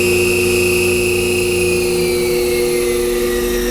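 A DC spindle motor on a D&M4 CNC mill runs near 2300 RPM, giving a loud, steady whine with sustained tonal hums that shift slightly in pitch.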